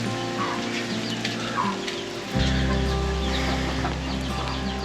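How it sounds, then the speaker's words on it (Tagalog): Chickens cluck around a cluttered house in the Philippines, with short repeated clucks over a steady background hum that grows louder partway through. No one speaks. "dito pa yung mga manok eh"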